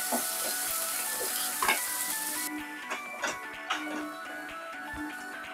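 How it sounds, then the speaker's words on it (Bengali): Tomatoes sizzle and fry in a pan for moong dal with green peas while being stirred, producing a steady crackle broken by sharp clinks and scrapes of a spoon against the pan. "টমেটোর কাঁচা গন্ধটা যতক্ষণ থাকবে ততক্ষণই আমি নাড়াচাড়া করে নেব।"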